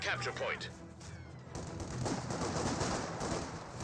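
Bursts of MG42 machine gun fire crackle in the Company of Heroes 2 video game, a rapid rattling stream of shots under battle noise, with a voice talking early on.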